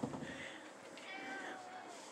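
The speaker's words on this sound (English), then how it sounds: "I can't come in the kitchen with the cats." A cat in a kitchen gives a drawn-out, wavering meow lasting over a second, faint and close, with a brief rustle at the start.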